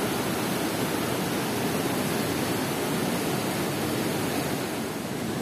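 Kundalshahi waterfall in Neelum Valley, Azad Kashmir, swollen by rain and melting snow, pours in a loud, unbroken broadband roar of rushing water, steady and close throughout.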